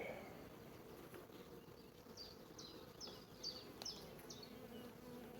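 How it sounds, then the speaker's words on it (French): Honey bees buzz around an open beehive while a beekeeper inspects the frames, a faint, steady hum with a few brief bird chirps above it. "j'ai une abeille qui me grimpe sur le dos"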